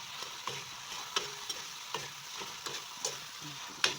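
Chili is stirred into chicken liver adobo frying in a pan, a soft steady sizzle broken by repeated clicks and scrapes of a utensil against the pan at an uneven pace.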